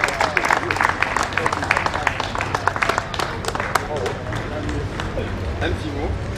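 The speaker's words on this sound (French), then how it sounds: "Je vous demande une salle d'applaudissements pour mon ami Jean-Louis Raymond" Audience at a boules grand prix clapping for a bronze medal presentation, a sustained crackle of many hands with scattered sharper claps and some murmuring voices underneath.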